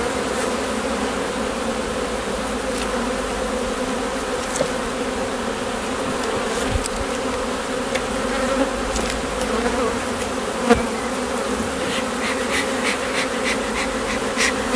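Dense, steady buzzing of many Buckfast honeybees swarming close by at an open hive during a frame inspection, a continuous hum with occasional sharper clicks and knocks.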